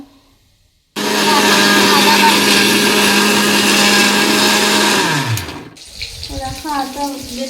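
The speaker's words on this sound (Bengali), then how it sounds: "এখন এটাতে মিক্সিতে বাটবো" Ginger being ground in an electric mixer grinder at home: a loud, steady motor whir runs for about four seconds and then winds down, followed by someone speaking quietly.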